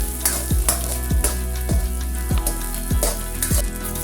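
Ginger with onion sizzling in a pan for crab cooked in coconut milk, a steady frying hiss broken by regular scraping strokes of a spoon roughly every half second.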